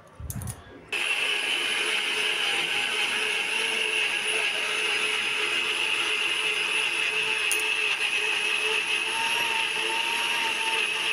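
A kitchen mixer grinder grinds spice masala: after a short clatter at the start, a loud, steady motor whine and whir runs unbroken to the end, close by and alone.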